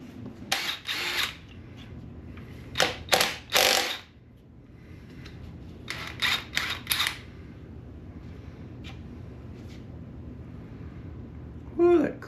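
Pistons being pulled from a GM Gen IV 5.3 Vortec V8 during disassembly, with several short bursts of ratcheting and clattering metal tool work against a quiet shop background.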